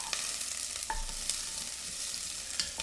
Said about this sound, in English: we're going to throw in our diced onions first